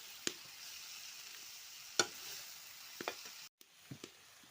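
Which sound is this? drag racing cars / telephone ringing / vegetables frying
vegetables frying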